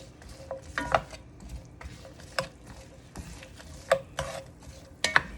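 Vegetables seasoned with salt and pepper sauteing in a pan, soft sizzling beneath sharp, irregular clicks and scrapes of a utensil stirring against the pan, close and fairly quiet.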